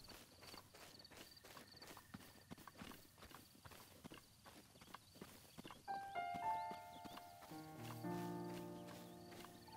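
A black horse's hooves clip-clop in a steady walking rhythm in Zelda: Breath of the Wild, close and distinct, with ambient insect chirps and a rising musical chime layer toward the end.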